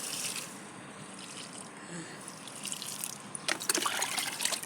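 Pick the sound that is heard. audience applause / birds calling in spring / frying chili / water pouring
water pouring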